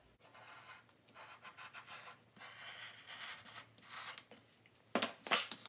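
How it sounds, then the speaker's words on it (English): A rotary cutter rolls around a template through fabric for a sewn bowl cover, making soft, quiet rubbing and scratching strokes in short bursts, close up with no talk. "I'm going to use my rotary cutter to cut around"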